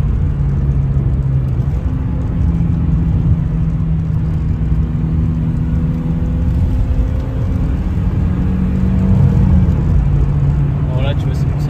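Inside a red BMW E30 driven in fourth gear at moderate speed, the engine keeps up a steady, loud drone with road rumble, while someone talks over the noise.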